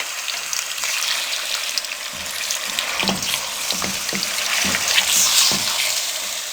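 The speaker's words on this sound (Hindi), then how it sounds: "अब मीडियम फ्लेम पे इसको 3 से 4 मिनट के लिए अच्छे से फ्राई करेंगे।" Chicken for karahi frying over a medium flame, giving a steady bright sizzle with soft stirring scrapes and clinks throughout; no one speaks.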